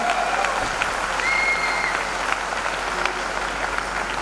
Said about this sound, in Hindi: एक बार जोरदार तालियां आप सबके लिए भी, एक बार जोरदार तालियां।